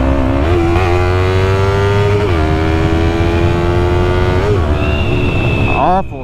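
A Yamaha MT-03 motorcycle with a stock exhaust rides steadily past, its engine droning loud and close with uneven, sputtering misfires, while a rider's voice runs over it before the sound drops away at the end.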